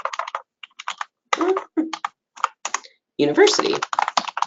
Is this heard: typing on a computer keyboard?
yes